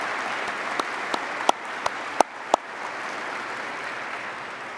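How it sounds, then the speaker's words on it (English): At a 2019 aviation safety awards ceremony, an audience keeps up a steady hiss of applause, with a handful of sharp, distinct claps standing out near the front before the clapping fades. "So one more round of applause for them,"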